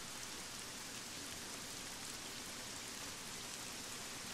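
Heavy rain in a video game military spec ops mission, a steady, dense hiss of rainfall on surfaces, even and unbroken throughout, with no voices.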